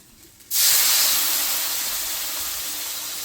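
Water poured into a hot pan of spiced country duck curry with coriander powder and salt sets off a sudden loud sizzle and steam hiss that holds steady and slowly fades.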